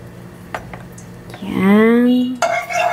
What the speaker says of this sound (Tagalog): Lagyan na natin ng oil.